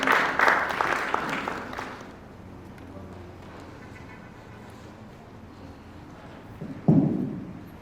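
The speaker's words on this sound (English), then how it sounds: "Let's give another round of applause." An audience applauds a presenter at a conference talk on respiratory infection management, a dense burst of clapping for about two seconds that fades into room murmur, followed by a loud thump near the end.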